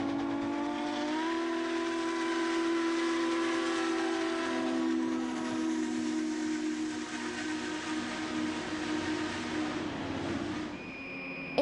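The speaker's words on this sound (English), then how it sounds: "I love the sound of a steam whistle." A steam locomotive whistle sounds one long, steady, loud chime-like blast with a breathy hiss, held for over ten seconds before cutting off, heard alone without talk.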